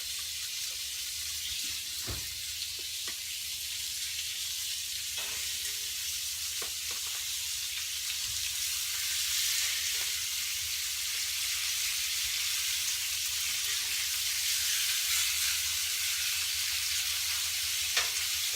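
Steak sizzles on a cast iron griddle plate in outdoor cooking, a steady hissing fry that runs throughout with a few faint knocks and taps, fairly close and no talk.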